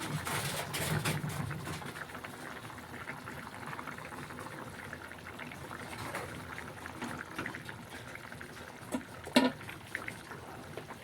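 Fish pieces dropped into a pan of simmering fish curry (kochu diye macher jhol), a soft sizzle and gentle bubbling that stays quiet and steady throughout, with a few brief clinks and splashes near the start and end.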